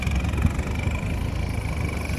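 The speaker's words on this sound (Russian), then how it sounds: "Мотор работает бесподобно" A UAZ off-road vehicle's engine runs steadily in snow, a continuous low rumbling drone with a faint higher whine, holding an even level throughout without talk.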